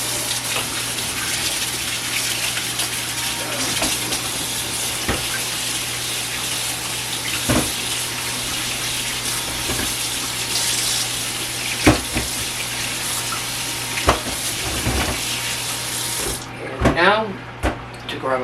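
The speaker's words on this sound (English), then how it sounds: "Now for the potatoes. Get them washed off." Potatoes are washed under a running kitchen faucet at the sink. A steady, close rush of water flows throughout, with small splashes and knocks as the potatoes are handled, and a brief clatter near the end.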